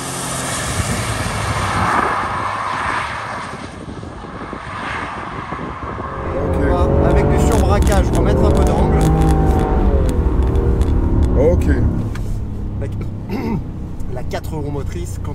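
A Toyota Yaris GR on a driving-centre track, its engine droning and rising in pitch under acceleration as the car drives and slides, with someone talking over the steady engine noise.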